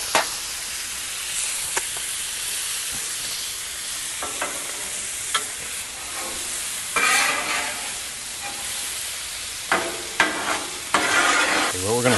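Butter sizzles loudly on a Blackstone griddle while pork chops are basted, a continuous hissing fry broken by sharp scrapes and clicks of a utensil against the flat-top.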